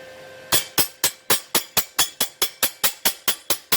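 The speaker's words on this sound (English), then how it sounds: "So we'll let that cool down and then chip off the slag." Fresh weld slag is chipped off with steady, evenly spaced sharp taps, about a dozen crisp close strikes in a regular rhythm.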